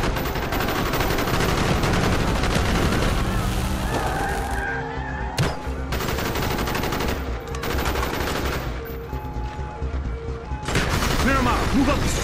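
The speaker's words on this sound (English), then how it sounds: "Bowman, Carlos, lay down covering fire." Sustained covering gunfire in a Call of Duty: Black Ops street battle, dense bursts of automatic weapons and shots rolling almost continuously, loud and close, with brief lulls and shouted voices mixed in.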